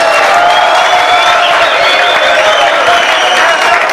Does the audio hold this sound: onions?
no